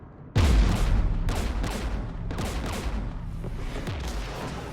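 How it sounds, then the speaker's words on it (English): Gunfire in the video game Mass Effect 3 on Rannoch, with an initial loud blast followed by repeated bursts of shots and booms over a dense, rumbling battle background. "We're taking fire."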